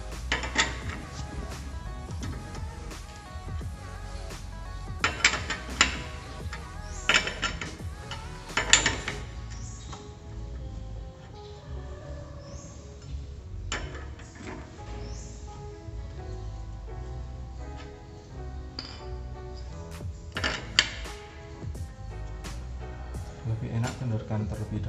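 Wheel bolts are loosened with a tool to service a disc brake, giving sharp ratcheting clicks and metallic clanks in irregular bursts over a quiet workshop background.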